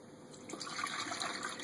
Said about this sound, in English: Water goes in.